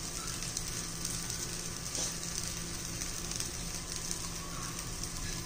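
Green pea (matar) dosa batter frying in oil drizzled around the edges on a pan over medium heat, giving a steady, even sizzle that continues without a break and without talk.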